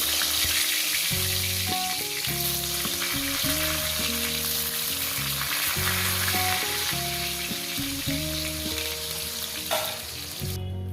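Pointed gourd (potol) fries in a hot pan, making a continuous close sizzle that sits under prominent background music, with no talking.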